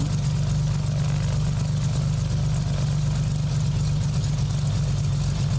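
Aircraft engine idling on the ground in a flight simulator, a loud, steady low rumble with a constant throbbing pulse that holds unchanged throughout with no voices.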